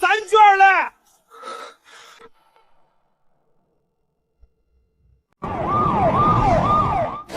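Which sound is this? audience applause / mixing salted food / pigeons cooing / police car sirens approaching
police car sirens approaching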